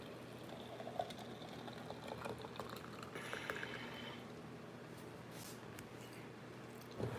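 Boiling water is poured into a glass holding cinnamon, giving a steady, close bubbling and liquid wash that runs throughout with a faint splash near the end.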